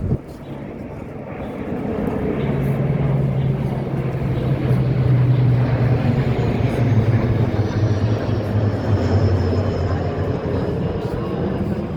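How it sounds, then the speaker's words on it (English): Indian Air Force tactical transport aircraft from 11th Squadron in a formation flypast at a Republic Day parade rehearsal, a low droning engine rumble that builds and holds as the aircraft pass, with an announcer talking over it. "the latest tactical transport aircraft of the Indian Air Force from 11th Squadron"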